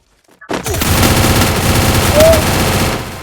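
Sustained automatic gunfire from the Free Fire video game, a loud continuous burst of rapid shots starting abruptly after a brief silence and running to the end, with a short whistling tone partway through.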